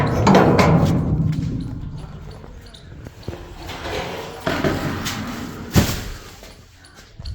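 A small wooden door of a village goat shed is pushed open, giving a run of close thumps, scrapes and a sharp knock amid shuffling and rustling, with heavy movement but no speech.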